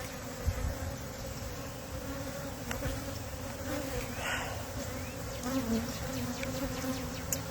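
Honey bees buzz around an open hive, a steady close-up hum of many wings with individual bees droning past, over faint outdoor background.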